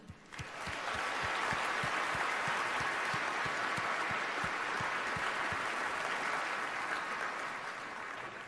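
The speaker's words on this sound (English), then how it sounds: "How about a big rip-roaring round of applause to those folks who are here with us tonight?" A large banquet crowd at the 2011 NASCAR Sprint Cup Series awards in Las Vegas breaks into loud, sustained applause, swelling within the first second and holding thick and even throughout.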